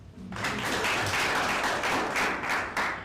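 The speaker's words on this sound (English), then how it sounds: "We can clap for the DVC" A university livestream audience claps together in a brief, full round of applause that swells quickly, holds steady for a couple of seconds and tapers off at the end.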